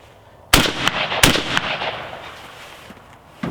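A shotgun fires a reloaded Fiocchi hull on its fifth reload, one sharp loud blast with a quick echoing follow-up crack, then a fading rumble before a faint click near the end.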